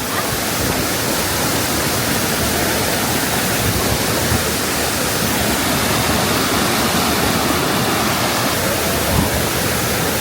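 Loud, constant roar of rushing high-pressure water from a waterfall in Biliran, Philippines, a dense unbroken wash of noise filling the whole stretch without pause.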